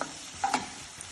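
Onions and green chili fry in a pan, a soft steady sizzle with a couple of brief stirring scrapes and clinks, close and moderately quiet, no talk.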